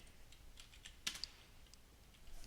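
Typing on a computer keyboard, a quiet scattering of close key clicks with one sharper keystroke in the middle, alone against faint room hum.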